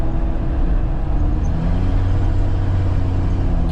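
Loud, steady low-frequency exhaust drone with a broken exhaust fills the cabin of an 80 Series Land Cruiser SUV, rumbling continuously and close throughout with no speech.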